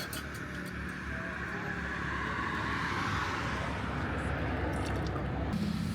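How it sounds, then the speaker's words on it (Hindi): Vehicles passing along a roadside among small hills on the way to Manali, a faint, distant traffic wash that swells gradually and then eases, with soft clinks nearby. "गाड़ी की आवाज़ भी है"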